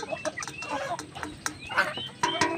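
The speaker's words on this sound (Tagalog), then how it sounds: "may sisiw po tayo nga bago natin na binaba galing sa ating incubator" Newly hatched chicks fresh from an incubator peep in short, high, overlapping chirps, close by and moderately loud, with faint background noise.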